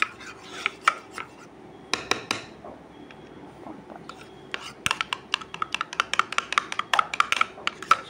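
A metal spoon beats curd smooth in a bowl while chicken liver masala is being prepared. Sharp clinks come in scattered bursts, then turn into a rapid, steady clicking toward the end, with faint background noise.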